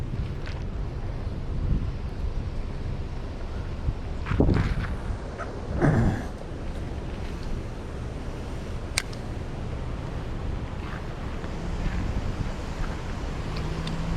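Wind buffeting outdoors by the water while catfish fishing, a constant low rumble of gusts against the microphone with a few brief knocks and handling bumps, no speech.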